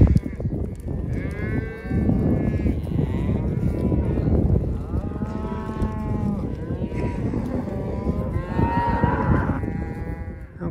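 Cattle lowing repeatedly and loudly during a branding-day roundup, with cows being herded back together and calves nearby; overlapping moos from several animals, close and continuous over outdoor background noise.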